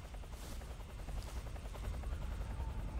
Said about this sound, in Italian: Sto elicottero non ho capito cosa cazzo vuole.